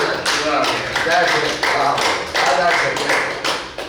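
Participants at a yoga workshop clap for a fellow participant, a close burst of many hands clapping in a hall, with voices chattering underneath throughout.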